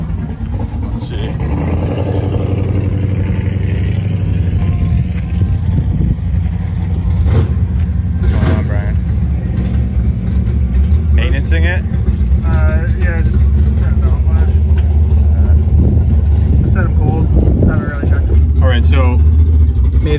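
Drag racing car's engine on nitrous or Procharger setup idling and rumbling at a steady low pitch, with voices talking over it throughout.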